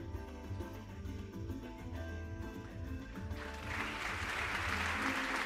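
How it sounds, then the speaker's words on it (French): Audience at a Mauritian anniversary celebration for the Made in Moris label starts to applaud partway through, the clapping swelling into a steady wash over faint background music. "On applaudit très fort encore une fois les membres fondateurs du label Made in Maurice"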